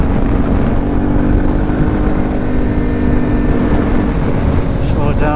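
Yamaha T7 motorcycle fitted with a Camel ADV high exhaust and DbKiller, riding on a wet road: a steady loud engine drone holds throughout with rushing wind noise and no clear break.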